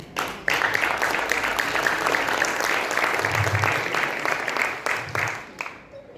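Church congregation clapping in praise to the Lord during a sermon, a sustained burst of mixed applause from a crowd, with a few voices calling out underneath before it trails off.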